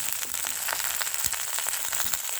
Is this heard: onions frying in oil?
yes